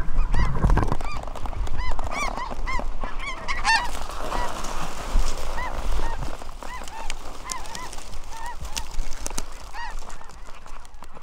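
A flock of snow geese honking during a South Dakota hunt, many overlapping honks and yelps near and far forming a continuous noisy chorus.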